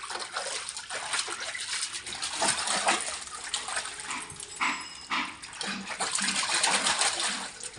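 Water poured over a small child's head during a bath at home, an irregular splashing gush with fussing whimpers and cries, close by.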